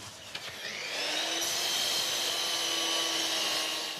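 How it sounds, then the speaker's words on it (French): An electric saw cuts into reclaimed marble in a workshop set up inside a shipping container, a loud, steady high-pitched grinding whine that builds in the first second and then holds continuously to the end. "l'ancienne chef d'entreprise attaque le marbre de récup à la scie électrique"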